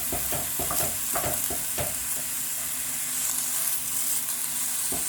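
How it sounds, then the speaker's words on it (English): Ground meat for baked ziti sizzles in a pot as a utensil scrapes and breaks it up, quick uneven stirring clicks repeating over a steady frying hiss, close by and with no voices. "So we're just breaking that up in the pot."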